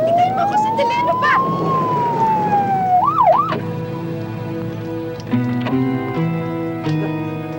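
A police siren wails loud and near, its pitch sweeping up and down across the whole stretch and then breaking into a rising and falling yelp, with rain and a low hum underneath.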